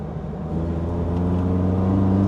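Datsun car on coilovers driving at steady speed, its engine holding a continuous low rumbling drone that swells slightly toward the end, with no clear separate thumps from road bumps.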